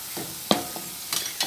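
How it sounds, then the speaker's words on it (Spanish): Garlic hits a pan of frying sofrito for an albacore stew, giving a steady close hiss and sizzle with faint scraping stirs and a few brief clinks. "Le echamos ajo."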